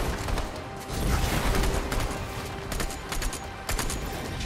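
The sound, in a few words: gunshots in a video game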